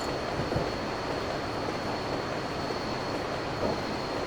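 A train engine in the Railworks simulator game rumbles as a steady low drone with a constant faint tonal hum, continuous and unbroken, with no voices.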